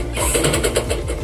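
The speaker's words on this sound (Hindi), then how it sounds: "मशीन से सिलाई डाल दूंगी।" Sewing machine running a quick burst of stitches to attach a fall along a saree edge, a loud, close, fast mechanical whir lasting about a second.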